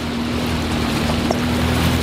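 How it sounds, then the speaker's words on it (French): A jet ski running on Lac Saint-Jean, a steady droning engine hum with rushing water and wind noise, loud and close with no talking. "petit tour en moto marine avec Charlotte."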